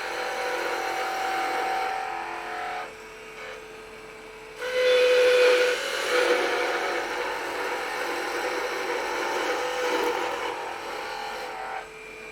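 A gouge cuts a honey dipper spinning on a wood lathe, a close hissing shear that swells and fades in long passes over the lathe's steady motor whine.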